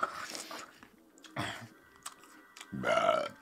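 A person burps while another eats an apple, with a short throaty belch near the end following crunchy chewing and bite sounds, close to the microphone.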